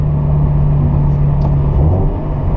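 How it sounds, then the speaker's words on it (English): A Toyota FRS fitted with an electric supercharger accelerates, its engine giving a loud, steady low rumble that holds throughout, with no talking. "when you need to press that gas pedal, it goes"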